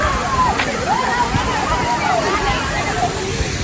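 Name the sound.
Bhaje waterfall near Lohagad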